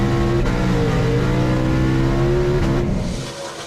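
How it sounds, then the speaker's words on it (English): A twin-turbo Shelby GT500 pulls hard at a half-mile race event, its loud engine droning steadily as the revs climb, with a brief dip at a gear shift before the sound fades as the car moves away. "Once that boost kicks in, it really starts pulling hard."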